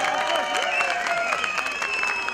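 Crowd of guests clapping at the opening of a DEVA Party district office building in Esenyurt, a dense, steady patter of applause mixed with some cheering voices, sustained throughout.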